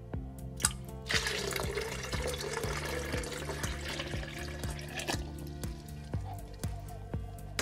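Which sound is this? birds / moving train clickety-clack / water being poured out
water being poured out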